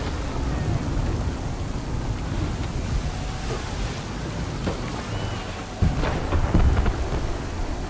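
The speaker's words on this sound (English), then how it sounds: "There's a storm coming, Captain." An approaching thunderstorm at sea in the video game Assassin's Creed III: continuous rain and wind noise with low thunder rumbles, and a louder surge near the end.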